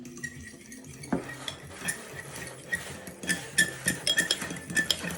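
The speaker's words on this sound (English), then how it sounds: "Let me get a fork to give that a good mix." Fork clinking and scraping in a dish while stirring mustard into ketchup for a meatball glaze, with a metallic tap followed by a busy run of light, close clinks.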